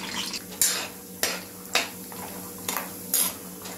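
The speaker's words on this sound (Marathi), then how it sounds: "हे बघा, अशा तऱ्हेने हे तेलात आपण शेंगदाणे चांगले तळून घेऊया" Peanuts frying in oil in a pan for poha chivda, with a steady sizzle broken by several loud metallic scrapes and clanks of a spoon stirring against the pan.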